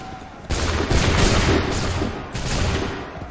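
A volley of musket gunfire bursts out in Assassin's Creed III, dense overlapping shots and booms in a loud sustained fusillade that swells, eases slightly, then surges again.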